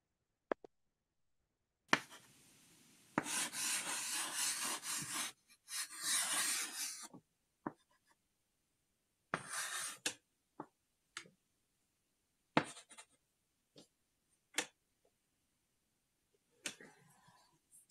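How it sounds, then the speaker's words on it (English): Quiet ASMR sounds of rubbing, tapping and writing on paper, with scattered soft taps and clicks and a few longer scratching rubs, separated by near-silent gaps. "ASMR goes with like whisper sounds, touch, you know, crinkling, fingers tapping, little things like that"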